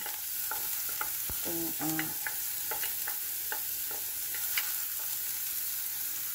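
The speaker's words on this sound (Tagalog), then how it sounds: "At igisa natin yung bawang at sibuyas" Garlic and white onions being sautéed in a pan: a steady sizzle with stirring and scraping clicks from a utensil against the pan, moderately close, no voices.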